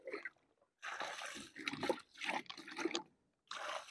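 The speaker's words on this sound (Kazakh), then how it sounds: "Осыған міне жаңағы араласқан тыңайтқышымызды осылай құйып бара береміз" Mixed liquid fertilizer poured onto the watered ground beneath a fruit tree in spring gives short bursts of splashing and trickling, broken by brief pauses, close by with no talk over it.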